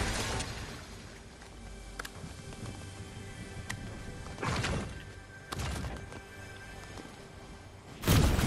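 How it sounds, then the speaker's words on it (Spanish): Gunshots ring out in the video game Fortnite as spotlights are shot at, with sharp broadband bursts near 4.5, 5.5 and 8 seconds over a steady busy game backdrop. "estoy disparando por ahí a los focos"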